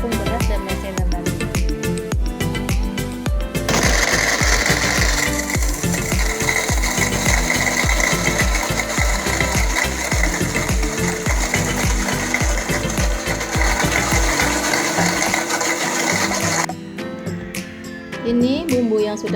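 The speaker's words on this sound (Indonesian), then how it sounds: "1 butir telur kita masukkan sekalian di dalamnya, kita blender sekalian" An electric blender runs continuously for about 17 seconds, grinding an egg with spices for shrimp rempeyek batter, loud and steady with a coarse mechanical rattle, then switches off near the end.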